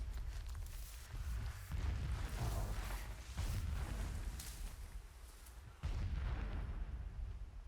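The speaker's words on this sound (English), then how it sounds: "Explosions in the distance." Distant explosions rumble and boom in the Horizon Zero Dawn video game, several heavy blasts rolling in successive waves over about eight seconds with no talk.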